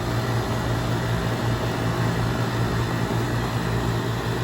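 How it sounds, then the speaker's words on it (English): Carrier 38CKC air conditioner compressor running outdoors, a loud, steady droning hum with a low pulsing rumble and broad airy noise, constant throughout with no talking. "My last time ever hearing this compressor in person, ever."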